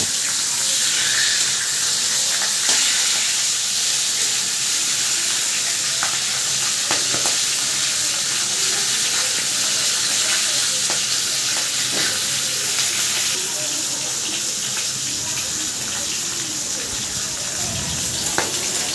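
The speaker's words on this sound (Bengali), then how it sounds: "মাছের মুড়োগুলো খুব সুন্দরভাবে ভাজা হয়েছে" Large katla fish heads frying in hot oil, a loud continuous crackling sizzle close up with scattered sharp pops and spatters running throughout, with no voices.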